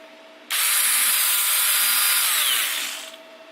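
A Ryobi rotary tool at its lowest speed setting starts up suddenly and hums with a steady, close whine for about two and a half seconds, then fades as it winds down.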